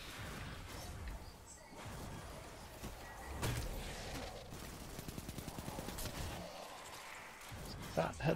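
Gunfire in Destiny's Crucible player-versus-player mode: scattered shots and a rapid burst of fire amid game effects, fairly faint, with a voice talking over parts of it.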